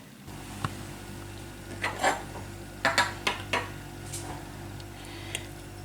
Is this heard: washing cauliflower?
yes